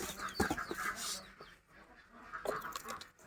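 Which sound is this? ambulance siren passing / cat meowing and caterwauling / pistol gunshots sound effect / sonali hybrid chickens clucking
sonali hybrid chickens clucking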